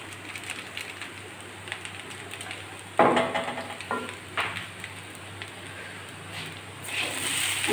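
Maggi noodles stirred and fried with a spice mix in a pan give a soft, steady sizzle, with a sharper burst of scraping and stirring partway through and no one talking.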